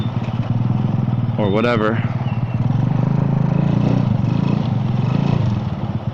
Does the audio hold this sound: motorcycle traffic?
yes